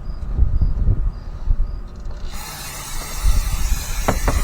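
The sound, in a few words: brake cleaner spray on rotor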